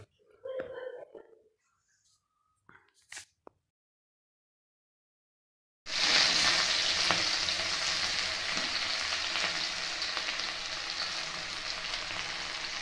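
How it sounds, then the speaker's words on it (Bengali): After a few quiet clicks and handling sounds, cinnamon, cloves and cardamom start frying in white oil in a wok, a sudden loud, steady sizzle that carries on close up to the end. "কড়াতে একটু সাদা তেল দিয়ে ভেজে নেব। এর মধ্যে দিয়েছি দারুচিনি, লবঙ্গ আর একটু এলাচ।"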